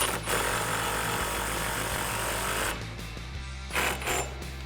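A deep 18 mm socket and a 15 mm wrench tighten a nut during a Ford Performance GT350 half shaft kit install on a 2015-2019 Mustang. Continuous close mechanical ratcheting and grinding gives way to quieter intermittent clicks.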